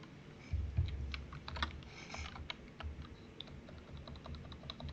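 Typing on a computer keyboard during a live coding session, a rapid irregular run of sharp key clicks, close and fairly quiet, with no voices.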